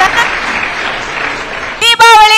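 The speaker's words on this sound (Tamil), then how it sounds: "நல்ல ஒரு கரகோஷங்கள் நாம் எழுப்பலாம்." Audience applause at a Tamil community festival in Dubai, a broad steady wash of clapping from a crowd that runs for about two seconds before a voice cuts in at the end.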